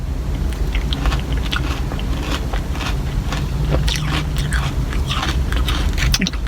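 Close-up chewing of a crunchy Dairy Queen pumpkin pie Blizzard, repeated crisp crunches and wet mouth sounds in a steady irregular rhythm, with no talk.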